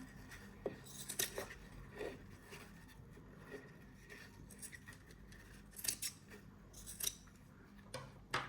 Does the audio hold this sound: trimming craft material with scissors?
yes